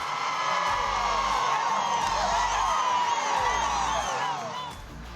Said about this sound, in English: They explosively cheer on Sean and Andiamo